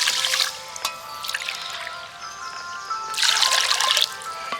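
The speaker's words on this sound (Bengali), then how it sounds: "চিনির সাথে আমি জল দিয়ে দেবো, পুরো 2 বাটি জল দেব।" Water is poured onto sugar in a cooking pan to make syrup, a close trickling, splashing stream that comes in two main bursts with a quieter pause between.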